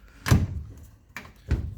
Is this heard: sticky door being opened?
yes